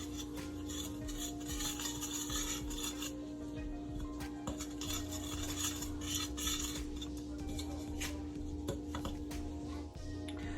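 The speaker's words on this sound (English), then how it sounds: "I'm gonna keep mixing this until it gets to the color that I want" A metal spoon scrapes and clinks against a pot while pork and sugar are stirred for Jamaican stew pork, steady close rubbing and tapping over a constant stovetop hum.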